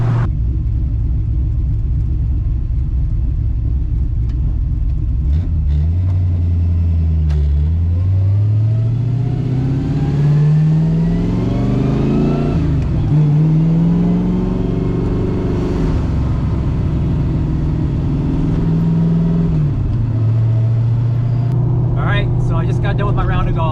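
A carbureted Fox body car engine idles with a deep, close rumble, then revs up and pulls away through several gear changes before settling back, with someone talking over it.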